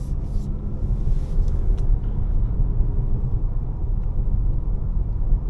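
Inside a 2026 Mazda CX-5 GT on the move, its naturally aspirated 2.5-liter four-cylinder with no turbo gives a steady, low cabin rumble of engine and road noise, even and unbroken throughout, with no talking.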